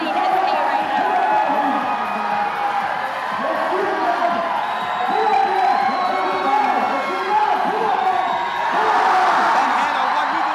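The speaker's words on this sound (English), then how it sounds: "The crowd is getting loud." A loud crowd at a USA Climbing National Cup bouldering competition roars and whoops continuously, shouts and cheers layered over one another in a big indoor space as a climber closes in on the hold.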